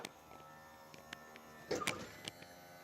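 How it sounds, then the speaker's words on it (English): Powered wheelchair ramp on a 2016 Chevy Silverado Crew Cab 4x4 wheelchair conversion closing: a faint electric motor whir with small clicks, then a brief louder clunk and rattle as the ramp folds up. "Just with the push of a button here, you can lift the ramp up."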